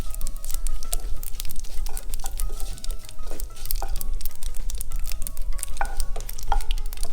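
Bay leaves frying in ghee alongside cumin and asafoetida for a Nimadi dal dhokli tempering: a steady, close sizzle and crackle with occasional stirring scrapes, running continuously without talk.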